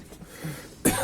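A single sharp, loud cough bursts out near the end, after a second of quiet background murmur, in a Ghanaian TV news segment on COVID-19.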